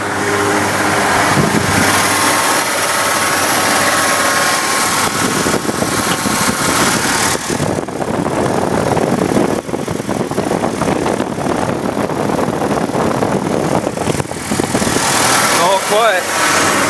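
A car engine running in a parking lot after a new serpentine belt install, a loud continuous idle with steady mechanical whir and vibration, joined by passing rattles and a brief chirping sweep near the end.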